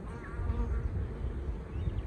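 Honeybees buzz around a seven-frame Flow Hive 2 on a hot, humid day, a steady close drone of many wings with a faint higher whine drifting over it.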